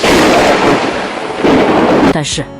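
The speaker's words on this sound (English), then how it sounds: "One moment there was thunder and lightning, the next clear blue skies." A thunder and lightning storm roars loud and close, with a sustained broad rumble that swells, eases and swells again before cutting to a brief fading crackle, with no talk over it.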